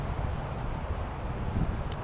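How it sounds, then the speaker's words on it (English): Strong wind during Tropical Storm Nicholas buffets the microphone in a low, rumbling, fluctuating roar, fairly faint and steady across a short stretch with no voices. "really the rain is really rough, or the wind is strong"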